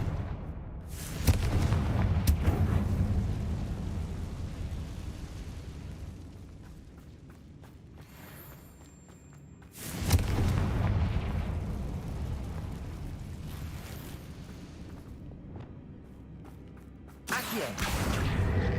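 Blasting-spell explosions in Hogwarts Legacy on PS5, three heavy booms a few seconds apart, each a loud burst that decays into a long rumbling tail, with faint background game sound between them.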